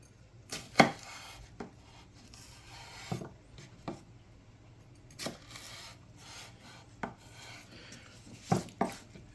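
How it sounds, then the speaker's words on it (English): A knife slices through fresh celery stalks down the center for soup, giving a series of sharp, close chopping thuds on a cutting board at irregular intervals, with no talking. "Of course, anytime you make soup, you got to put some celery in there. So we're going to slice these right down the center."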